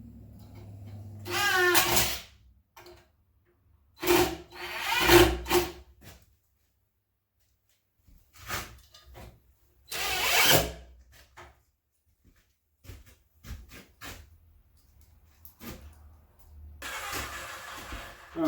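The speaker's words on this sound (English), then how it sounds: "I'm going to put a couple of screws in here to stop it from moving to and fro" A power drill drives a couple of screws into a drywall hoist to stop a strapped bar from shifting, in several separate whirring bursts with quiet gaps between them.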